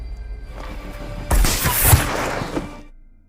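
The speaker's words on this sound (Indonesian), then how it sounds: "Raven pun melepaskan tembakan." A sniper rifle shot in the war film Sniper: The White Raven cracks out as a sudden loud burst over low background rumble, then fades with a rolling echo.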